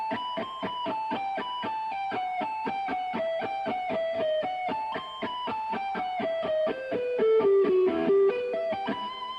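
An electric guitar plays the second half of a fast lead lick, a rapid run of picked notes descending in pitch, clear and up close with no talking.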